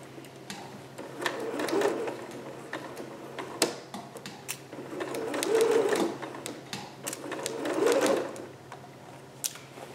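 A sewing machine stitches fabric for a Vogue 8280 dress, running slowly in short bursts of rapid mechanical ticking and whirring, with quieter pauses between runs.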